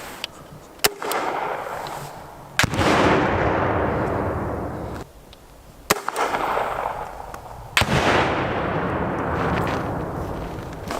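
A lightweight single-shot Heckler & Koch infantry grenade launcher fires outdoors: loud sharp bangs several seconds apart, each followed by a long rolling, echoing rumble.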